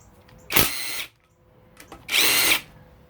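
A power tool spins out cam cap bolts on a Kawasaki KX cylinder head in two loud, close bursts of high whirring, each about half a second long, with a short pause and light clatter between them.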